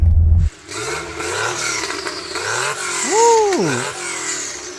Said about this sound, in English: So Becky, would you mind revving it up so we can hear it?